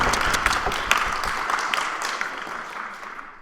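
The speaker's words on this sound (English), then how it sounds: "a loud round of applause" An audience in a debate chamber gives a loud round of applause, dense clapping that holds steady and then begins to thin and fade toward the end.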